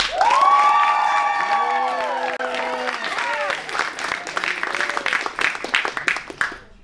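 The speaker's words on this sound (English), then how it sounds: "So, by a show of applause, who's fucking with swords?" A comedy show crowd erupts in applause and cheering as a vote, loud whoops and shouts over clapping that stay strong throughout, with a voice briefly audible.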